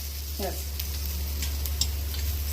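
A gram flour (besan) pancake fries in a pan with a steady, soft sizzle over a low hum, with a brief voice-like sound near the start.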